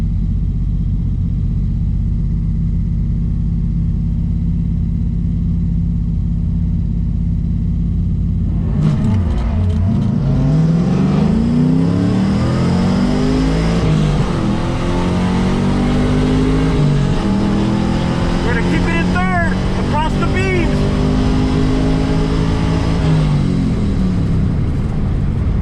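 A Trans Am engine at the drag strip start line: a steady low rumble that holds for a while, then swells into loud, rising revs with sweeping pitch, close and alone.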